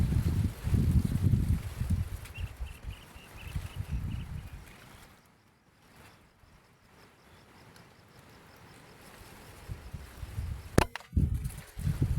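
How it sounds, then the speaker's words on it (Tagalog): Strong wind buffets the microphone in heavy rumbling gusts, easing to a quieter hiss midway before roaring again, with a sharp knock near the end. "Oh, grabe hangin mga kabagis."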